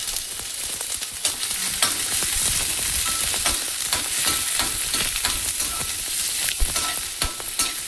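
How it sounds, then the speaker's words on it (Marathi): Chopped onion for fenugreek (methi) bhaji is sautéed in a pan, with a continuous close sizzle broken by frequent clinks and scrapes of stirring. "आता आपण ह्यामध्ये टाकूया हा चिरून ठेवलेला कांदा. त्यालाही परतून घेऊया."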